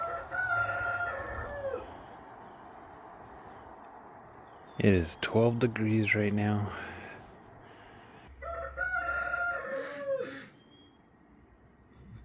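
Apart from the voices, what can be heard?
rooster crowing in the snow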